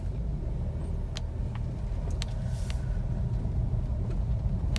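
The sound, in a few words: Honda Jazz car on a test drive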